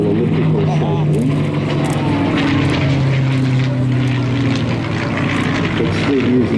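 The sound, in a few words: Supermarine Spitfire with Rolls-Royce Merlin engine flying at airshow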